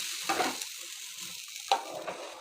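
Patisapta batter poured into an oiled pan over a low flame, giving soft, faint sizzling hisses that swell twice as the batter meets the hot surface, with quiet scraping between.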